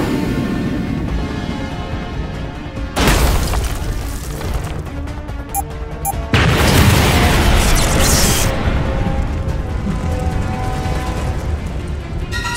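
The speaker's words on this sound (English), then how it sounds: "Get ready to drop the bomb." A cartoon bomb detonates in an animated sci-fi scene, bursting into two loud, broad booming blasts, each with a crashing roar that lingers over a steady rumbling background.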